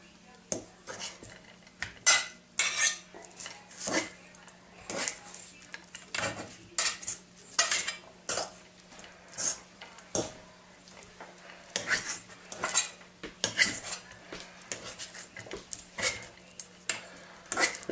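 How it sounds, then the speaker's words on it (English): Cream cheese and cheddar being worked together in a bowl with a utensil, giving irregular clinks, scrapes and knocks against the bowl, close and uneven in rhythm, no voices. "just kind of got to mix it up good and get all that cheddar mixed into it"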